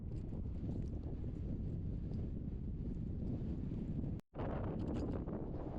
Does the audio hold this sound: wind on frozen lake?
yes